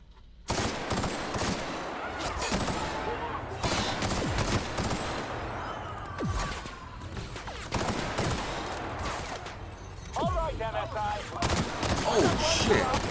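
Rapid bursts of gunfire from a gun in the video game The Outer Worlds, loud and repeated across the stretch with short pauses, mixed with other game effects and a voice talking in places.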